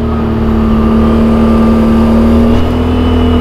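A vehicle fitted with a CVTech clutch holds its engine at high revs during a wheelie test in high gear. The sound is a loud, steady, close whine with no break and a stable pitch throughout.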